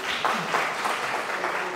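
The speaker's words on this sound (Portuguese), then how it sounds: "Palmas, professor Diego." Applause for a professor at a law-week lecture event, a short burst of clapping from the audience, moderately loud and brief, with a few distinct hand claps standing out near the start.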